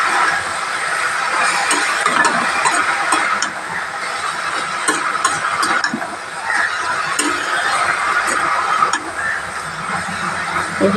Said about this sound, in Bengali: কড়াই দিয়ে ভালো করে আমি কষিয়ে নেব।